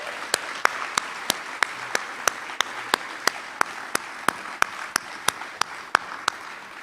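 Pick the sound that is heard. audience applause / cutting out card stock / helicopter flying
audience applause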